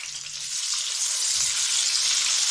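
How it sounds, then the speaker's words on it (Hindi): Onions fry lightly in a pan, giving a steady, even sizzling hiss throughout, close and moderately loud, with no voices. "वैसे ही हमने प्याज को भी लाइट सा फ्राई करना है।"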